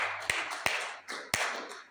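Three sharp, widely spaced claps in a church congregation ring out over a faint, hissy room background, each hit crisp and moderately close.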